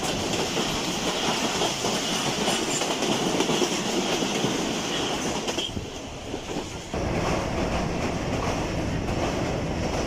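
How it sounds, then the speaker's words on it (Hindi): A passenger train crossing the Malir River Bridge on the Hyderabad to Karachi line, its steady rumble and clickety-clack wheel noise loud and continuous, dipping briefly partway through before resuming. "अब हम मलीर रिवर ब्रिज को क्रॉस कर रहे हैं।"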